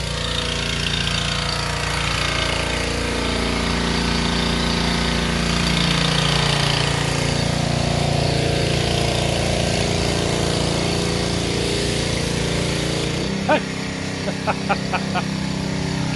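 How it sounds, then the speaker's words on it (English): A power washer runs steadily and loudly outdoors at a dog training facility, a continuous droning engine hiss that persists throughout, with a few sharp knocks near the end. "Out here power washing."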